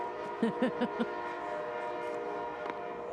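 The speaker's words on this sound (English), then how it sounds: "That train is just distracting us all as it's choo-chooing away." A passing train sounds its horn near a women's professional ballgame. Four short, loud blasts come in quick succession, followed by a steady distant rumble and one brief later accent. No voices.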